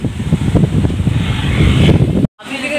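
Strong mountain wind in the highlands of Don Salvador Benedicto buffets the microphone with a loud, steady rumbling roar, then drops out abruptly near the end.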